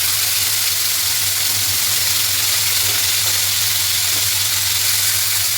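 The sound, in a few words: cut potatoes added to hot oil sizzling in a pan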